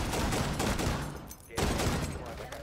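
Dense, loud gunfire bursts in a Rainbow Six Siege match, including shotgun blasts, come in rapid succession with a brief lull before firing resumes, while players talk over the noise.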